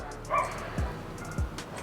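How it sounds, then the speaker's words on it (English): Indoors at home, a couple of dogs bark in short, sharp bursts, two distinct barks with a small yip, set against a steady low room hum and moderately close. "Of course the dogs are going crazy now."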